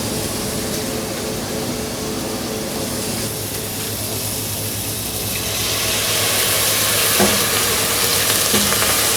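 Red wine poured into a hot pan after the fat has been skimmed off, producing a loud, continuous sizzle and hiss that grows stronger partway through, with faint stirring clinks.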